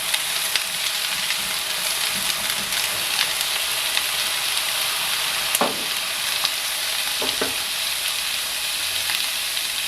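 Sausage sizzles and fries steadily in a pan for stuffing, with a few brief scraping stirs partway through and no talking.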